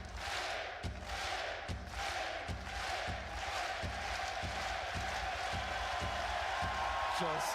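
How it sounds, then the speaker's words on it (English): A big esports arena crowd chants and cheers in a loud, rhythmic, steady roar, with regular pulsing beats under it. "If there's anyone who's good at working up a crowd, it is Kerrigan."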